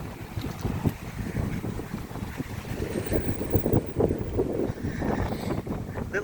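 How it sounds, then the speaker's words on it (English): Wind buffeting a microphone outdoors on a walk in Benalmádena, Spain: continuous low, rumbling gusts that swell and ease throughout, loud and close. "Hope you can hear me over the wind."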